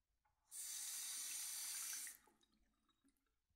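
A kitchen tap runs for a drink of water, a loud steady gush of about a second and a half that cuts off abruptly, followed by quiet handling noises.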